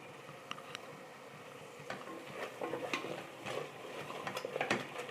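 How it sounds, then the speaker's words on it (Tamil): Masala paste and vegetables for vegetable pulao are sautéed in a pan, with quiet sizzling beneath intermittent scraping and clinking of a spoon against the pan, growing busier toward the end. "இது எல்லாத்தையும் சேர்த்து எண்ணெய் பிரிகிற வரைக்கும் நல்லா வதக்கிக்கலாம்"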